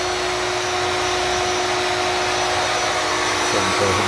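Maslow CNC router running steadily while withdrawing its bit after cutting arcade cabinet templates, a continuous loud whirring motor drone with a steady tonal hum, no speech.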